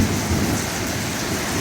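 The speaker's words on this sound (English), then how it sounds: "certainly hearing a lot of thunder" Rain falls steadily during a severe thunderstorm, a dense broadband wash with a low rumble of thunder beneath, loud and continuous for the short span with no voices.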